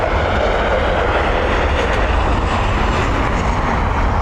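A Ryanair-numbered jet arriving from Edinburgh roars steadily while landing at Dublin Airport, a loud, broad, unbroken rumble held for the whole stretch with no voices.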